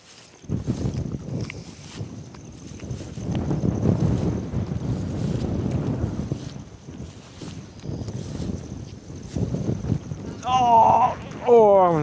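Strong storm wind roars and buffets the microphone on a cold, misty mountaintop campsite. It is loud and continuous with gusting surges, and a brief tonal chirp comes near the end.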